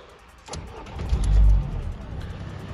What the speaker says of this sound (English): Turn on the car.